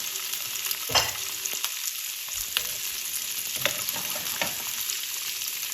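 Peppers frying in olive oil in a pan give a steady, close sizzle, broken by a few soft clatters as they are stirred, with no voices.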